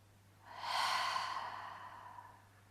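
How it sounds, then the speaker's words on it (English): A single deep breath during a yoga session, a slow audible inhale swelling into a long, airy exhale, close and fairly soft, with no talking. "Let's take a deep breath in. And a long breath out."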